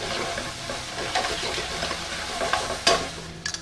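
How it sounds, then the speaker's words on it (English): Mushrooms sauté in butter in a pan, caramelizing with a steady close sizzle and occasional scraping stirs of a utensil, with no talk over it. "And mushrooms. We're going to saute these for about 3 to 5 minutes to caramelize."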